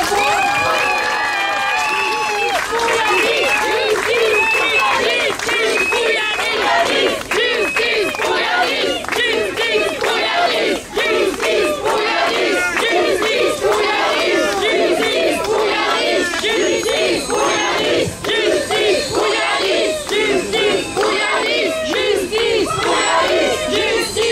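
Large gathering calling for justice for the family of young Yanis roars with sustained cheering, shouting and applause for the boy's father, a loud continuous crowd din with chanting-like cries lasting over twenty seconds.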